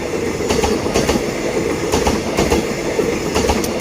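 A Thai train, hauled by an Alsthom locomotive, passes in the morning; its wheels clack rhythmically over rail joints in a loud, continuous rumble, with repeated metallic beats and no voices.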